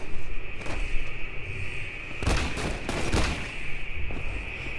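Gunfire in XCOM: The Bureau, rapid bursts of shots with two heavy volleys in the middle over a steady high electronic whine, loud and close, with quieter scattered shots before and after.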